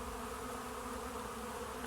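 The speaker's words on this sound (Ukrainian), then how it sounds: "і ця матка теж вилетіла, полетіла на обльот" Steady insect buzzing of bees near the hive as young queen bees fly out on their orientation flight, a continuous even drone with no talking.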